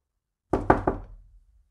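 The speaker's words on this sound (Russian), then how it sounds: "Кто-то постучал в мою дверь." Three sharp knocks on a door in quick succession, close and clear, with a short ring-out after the last and no talking.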